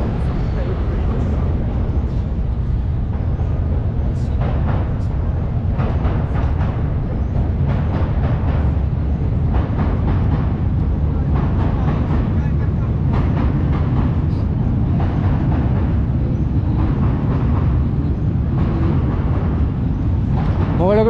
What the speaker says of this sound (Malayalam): മുകളിലൊക്കെ ട്രെയിൻ വന്നിട്ട് ആ സൗണ്ട് കേൾക്കുന്നുണ്ടോ